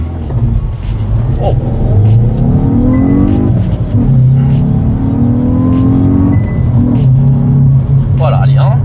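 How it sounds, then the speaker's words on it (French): A Hyundai i20 N hot hatch accelerates hard from 0 to 80 km/h, its engine note rising loud and close through each gear, with short shift breaks between climbs. Occupants talk over it now and then. "Allez, c'est parti, messieurs, dames, pour le 0 à 80."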